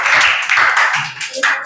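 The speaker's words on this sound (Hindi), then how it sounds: "चलो ताली बजा दो भाई" Students in a spoken-English grammar class clap together in a short, loud burst of applause lasting under two seconds.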